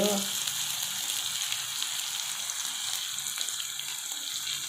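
Onions fry in hot oil, giving a steady, dense sizzle that stays loud and even throughout, with faint stirring scrapes underneath and no voices.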